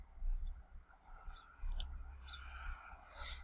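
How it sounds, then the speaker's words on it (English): A few faint computer mouse clicks while saving a file in Character Creator 3, isolated and close over a quiet low hum, with no voice. "Let's click file, save."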